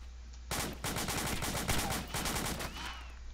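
Rapid gunfire from a video game, bursts of automatic shots rattling continuously for several seconds, loud and close, with a brief tail of shell and debris sounds at the end.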